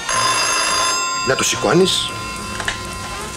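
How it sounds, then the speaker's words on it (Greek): An old telephone bell rings steadily in a home in a 1980 Greek film, a continuous high ringing that runs under a voice speaking over it. "Και αυτό είναι το τηλέφωνο."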